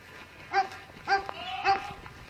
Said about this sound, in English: There's a goat that's like, help!